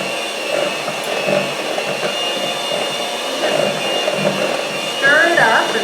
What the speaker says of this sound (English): get our mixer out and start mixing